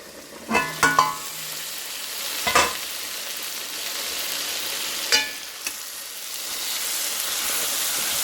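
Bitter gourd sautéing in a pan for a curry gives a steady, gentle sizzle, broken by a few sharp scraping stirs near the start and middle.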